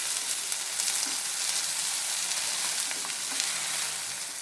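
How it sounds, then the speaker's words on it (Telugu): Okra fries on high flame with crushed garlic and turmeric, a dense continuous sizzle with scattered pops and crackles, close and even, with no talking. "కొంచెంసేపు హై ఫ్లేమ్లోనే వేయించుకోవాలి"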